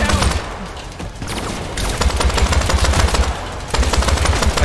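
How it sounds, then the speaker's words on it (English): Dense, continuous rapid gunfire in a video game, loud and close, with overlapping automatic bursts and heavy low thumps throughout. "I don't know who's shooting at me right now."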